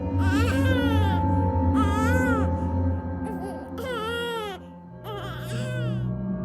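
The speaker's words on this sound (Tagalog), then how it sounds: "papalakas ng papalakas yung iyak ng mga bata na naririnig" Children cry in loud, high wailing bursts, four distinct sobbing cries separated by short pauses over a low droning background, close and prominent in an eerie horror-story setting.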